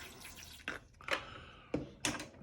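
Water dripped from a dropper into a sepia ink wash thinned with matte medium, a few small close drips and splashes heard on their own in a quiet room.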